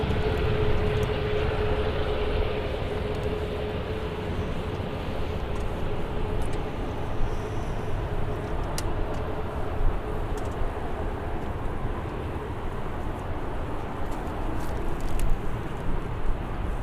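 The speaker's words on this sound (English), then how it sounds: "I'll shut up now for us to enjoy the A380 for a few minutes" An Airbus A380 airliner at Birmingham Airport produces a continuous, broad, distant jet roar that stays fairly even throughout with no voices.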